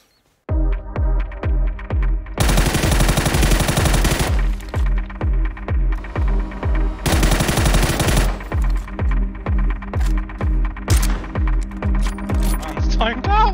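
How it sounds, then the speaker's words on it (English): Rapid automatic gunfire in a video game, loud repeated bursts of shots with mechanical clicks, steady rhythmic firing throughout with two denser bursts standing out. "Just got shot by an AWM"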